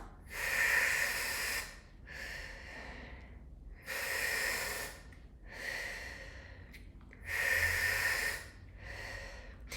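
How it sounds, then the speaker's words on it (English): Oxygen from a Boost Oxygen can, inhaled by mouth, as a series of loud airy breaths: three long hissing draws alternating with softer exhales, close to the microphone. "you would press the trigger to activate it right by your mouth, and you're supposed to inhale it with your mouth"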